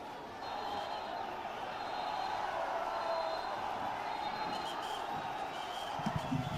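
Steady roar of a large protest crowd pressing through a police cordon, a dense wash of many raised voices and commotion, continuous and fairly loud from start to finish.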